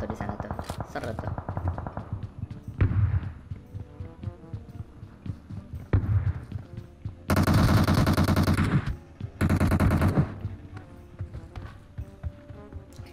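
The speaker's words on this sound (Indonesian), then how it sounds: "Tembakan tuh di sana tuh seru tuh." Gunfire in the mobile battle-royale game PUBG Mobile, with a suppressed VSS rifle in play: rapid bursts of shots cluster in two loud dense stretches mid-clip, with scattered sharper reports earlier, all under game sounds and someone talking over it.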